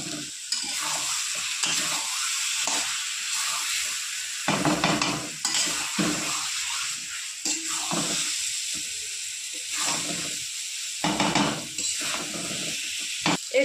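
Potatoes stir-fried with spices in a pan, a steady close sizzle with repeated scraping stirs of a spatula throughout, no voices.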